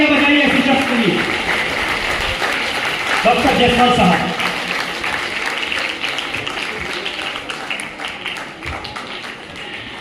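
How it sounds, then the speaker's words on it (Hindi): An audience at a school naat competition awards event in Aurangabad claps loudly, a broad burst of applause that gradually fades while a voice speaks over it. "जोरदार तालियां बजाइए ऐसे शख्स के लिए"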